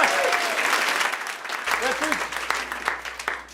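An audience at a comedy and magic club show breaks into sustained applause and some cheering, which fades gradually toward the end while a voice carries on faintly underneath.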